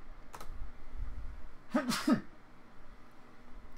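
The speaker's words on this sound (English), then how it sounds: "I sneezed." A single short sneeze bursts out once, fairly faint and close, against a quiet room hiss during a digital art colouring session.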